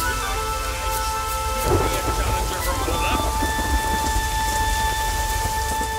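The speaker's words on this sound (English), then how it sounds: "The storm, damn it." A thunderstorm in the video game The Witcher 3 on the isles of Skellige: steady heavy rain with a low rumble of thunder swelling midway, loud and continuous, with faint game tones underneath.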